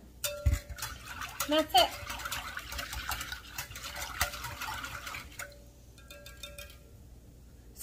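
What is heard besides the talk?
stirring au jus mix into water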